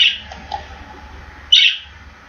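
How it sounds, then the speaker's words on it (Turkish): Two short, high bird chirps in Minecraft sound a second or so apart, clear and close over a quiet background hum. "Kuş, kuş ötme sesi de uygun."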